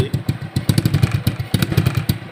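Motorcycle with a makeshift, home-repaired exhaust revving close by, giving a rough, pulsing burble with repeated throttle blips and a clattery rattle across a couple of seconds.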